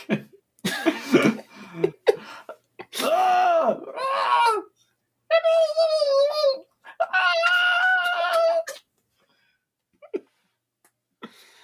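A single voice imitates the shouts of orcs and goblins with a series of harsh, strained, guttural cries and squeals in bursts separated by pauses, close and loud, ending in silence.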